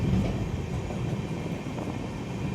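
The Amritsar–Bikaner Superfast Express 14720 rolls along the line at speed, giving a continuous rumbling roar of wheels and carriages, steady and fairly loud with no voices.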